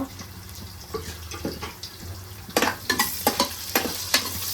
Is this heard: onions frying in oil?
yes